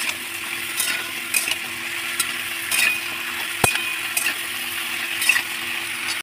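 Vegetables stir-fried over raised heat in a pan give a steady soft sizzle broken by rhythmic scraping strokes and an occasional sharp clink of the spatula against metal.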